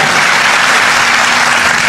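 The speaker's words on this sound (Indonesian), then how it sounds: "Tepuk tangannya yang paling meriah buat Raja di atas segala raja." Church congregation applauding enthusiastically, a dense loud continuous roar of many hands clapping close by, filling the whole moment without pause.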